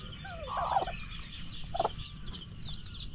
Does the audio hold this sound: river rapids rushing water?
no